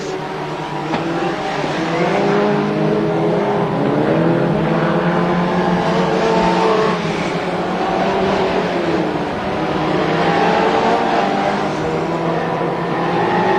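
BriSCA F2 stock cars race around the Crewe oval in the 1993 World Championship Final, several engines droning and rising and falling in pitch as they pass through the turns, loud and continuous with faint commentary beneath.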